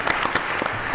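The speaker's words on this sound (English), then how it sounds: "Join me in a round of applause for" Applause from a leadership forum audience, steady dense clapping from a crowd that holds at an even moderate level throughout.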